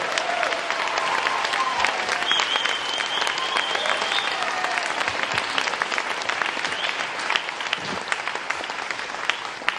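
Sustained applause rolls through an audience at a political gathering for speaker Paul Mason, a dense, continuous clatter of many hands with occasional whistles and distant voices mixed in.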